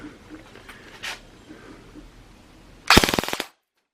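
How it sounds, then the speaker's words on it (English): A FreFrans project rifle fires on full auto in one fast burst of about a dozen closely spaced shots, loud and near, after a stretch of quiet background. "Let's see what we get for full auto for a round count."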